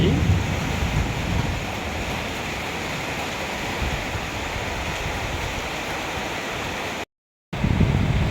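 Storm wind and rain roar as a dense, steady wash of broadband noise, loud and continuous, broken only by a brief cut near the end.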